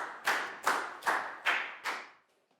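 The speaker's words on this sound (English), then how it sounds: "a big round of applause for Down." Classroom applause from a Year 4 science class: five sharp, evenly spaced claps ring out loudly, each fading quickly, with the last trailing off into quiet and no talking.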